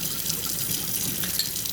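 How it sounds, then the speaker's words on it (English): Water drains and splashes out of a sprouting jar of seeds, a continuous close trickling and gurgling pour with no talking. "then you just drain the water back out like this"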